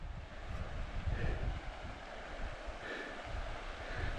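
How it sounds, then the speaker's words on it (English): The Belly River in Glacier National Park rushes in a continuous broadband roar of flowing water. Wind buffets the microphone at moments, and no one speaks. "Yeah, you can definitely hear the river."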